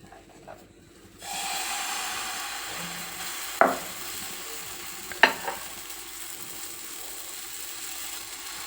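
Dosa batter meets an oiled pan with a steady sizzle that starts abruptly and carries on evenly, broken by a couple of brief clanks of a utensil against the pan.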